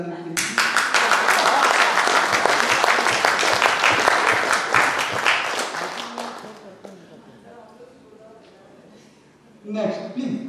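Loud audience applause during a product training event, dense clapping that fills the first six seconds, then fades away into near quiet before a voice briefly starts speaking at the end.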